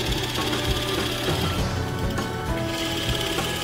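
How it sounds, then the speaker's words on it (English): A Forstner bit drilling into wood for a dowel hole, a dense grinding whir that holds steady and close for a few seconds with no talk. "the Forstner makes such a clean, flat cut that allows the other dowel to sit in there and sit perfectly tight"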